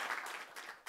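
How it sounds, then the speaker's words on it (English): Brief audience applause for two conference speakers, a short burst of many hands clapping that dips for a moment and then swells again. "Please, a round of applause for both."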